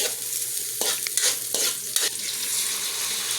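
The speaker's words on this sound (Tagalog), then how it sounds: "Hinahalo-halo ko lang hanggang lumabas ang kanyang aroma" Chili peppers with onion stirred in a frying pan, a utensil scraping in several distinct strokes over a steady sizzle of hot oil, close and moderately loud.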